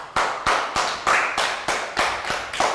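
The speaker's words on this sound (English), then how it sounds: "Big round of applause for Pak Bung." A classroom group of pupils claps in about eight sharp, spaced bursts, each a loud crack that decays quickly, heard close and with no talking.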